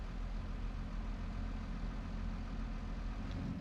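John Deere tractor engine idling in Farming Simulator 22, a steady low rumble holding even and continuous throughout with no talk over it.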